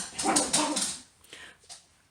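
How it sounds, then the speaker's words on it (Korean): A pet dog barks and whimpers indoors in a quick burst of yips and whines near the microphone, then trails off into fainter whimpers. "우리 강아지가 갑자기"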